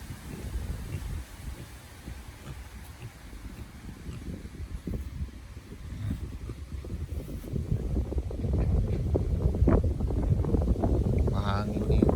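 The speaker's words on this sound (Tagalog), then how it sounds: "Mahangin dito." Wind buffets the microphone on a farm in gusty low rumbles that grow stronger toward the end, while a person talks through it.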